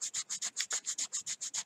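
A hand-carved fishing lure is rubbed with sanding cloth in quick, even back-and-forth strokes, about a dozen soft rasping swishes in under two seconds, close and fairly quiet.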